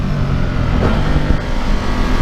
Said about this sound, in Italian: sentite che rumore esagerato, esplode quando si dà gas